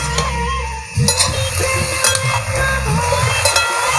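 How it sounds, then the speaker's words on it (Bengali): Water lily stems being stirred and fried with spices in a pan, a steady close sizzle with scraping stir strokes throughout, no talking. "দেখো মা নেড়েচেড়ে কিভাবে ভেজে নিচ্ছে শাপলাটাকে"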